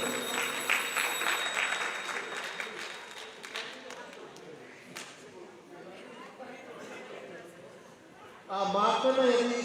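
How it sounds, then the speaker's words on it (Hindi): Audience at a Diwali celebration applauding to welcome a prize winner from a raffle draw, a steady stretch of clapping under a speaker's voice, swelling louder near the end. "जोरदार ताली बजाकर स्वागत करते"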